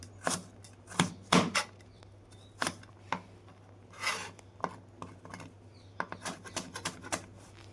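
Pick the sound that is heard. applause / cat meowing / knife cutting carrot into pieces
knife cutting carrot into pieces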